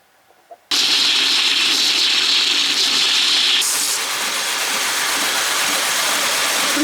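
A bench grinder bites into a Damascus steel knife guard, starting suddenly and going on as a loud, steady, hissing grind, with a slight change in pitch partway through.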